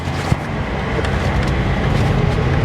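A 2004 Mazda RX8 with a six-speed manual transmission revs hard under acceleration, a dense, loud engine roar building steadily over a few seconds with no talk.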